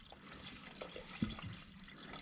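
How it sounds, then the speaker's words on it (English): Lacquer thinner pours into a can in a faint, soft trickle with a few small splashes and glugs, close by and quiet, with no talking. "All I need to do is start pouring in lacquer thinner."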